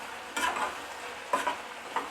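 Yogurt chicken frying in its released oil in a pan, with a few short bursts of stirring and scraping over a soft continuous sizzle, close and moderately quiet.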